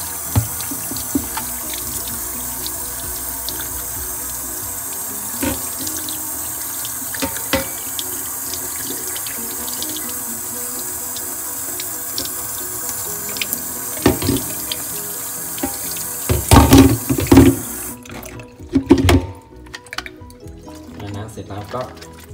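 Parts of a Delonghi espresso maker are rinsed under a running tap, a steady broadband water stream lasting most of the clip, with someone speaking over it and louder splashing bursts near the end.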